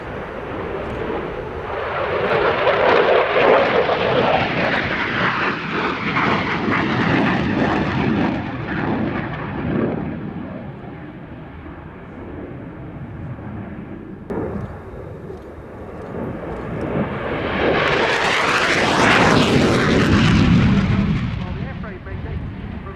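A jet fighter accelerates to high speed in an air show display, a loud, sustained roar that swells, dips and then surges again in a rising sweep as it passes, heard over distant crowd ambience.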